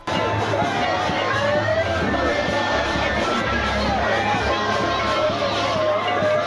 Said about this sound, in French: Devant une foule compacte, excitée pour écouter le leader bien-aimé Simon Floribert Mbachimbacha